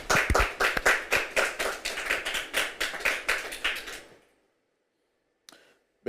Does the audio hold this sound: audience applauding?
yes